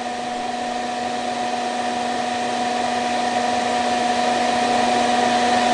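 Pelonis disc furnace space heater running on its high setting, giving off a steady, loud fan whoosh with a constant tonal hum, unchanging throughout.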